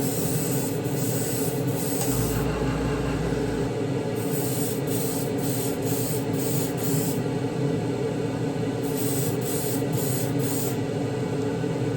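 An airbrush sprays a wet coat of paint onto a Gaahleri Kaleido model kit in several short hissing bursts over a constant airy rush from the compressor, close and steady, with no talking.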